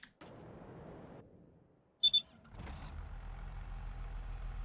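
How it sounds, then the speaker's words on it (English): A tractor, a 5465 in Farming Simulator 22, gives two short, sharp low-fuel warning beeps, then its engine starts up and settles into a steady low rumble. "this thing needs fuel. It's beeping at me."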